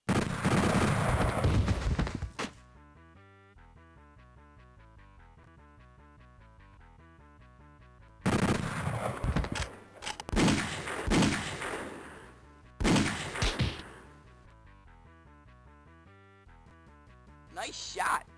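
Loud bursts of gunfire from the video game Diamond Rising come in several separate clusters of sharp cracks, with quieter stretches between them.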